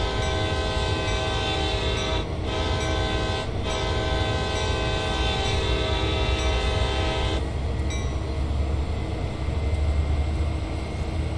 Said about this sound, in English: these long and heavy freight trains accelerate very slowly and require quite a lot of power to get moving